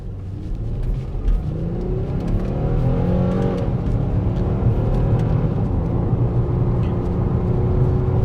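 A car engine rumbles and climbs steadily as the vehicle accelerates, a continuous loud drone with rising revs, heard from inside.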